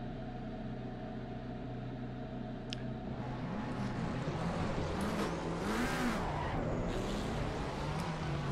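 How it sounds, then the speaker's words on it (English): A McLaren 720S GT3 EVO race car engine in Assetto Corsa Competizione hums steadily, then revs up and down in repeated swells that grow louder and rougher toward the end, with no voices. "the McLaren sounds meaty"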